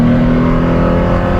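A Porsche accelerating hard after a downshift, its engine note a loud, steady, close drone with a strong low hum throughout and no talking.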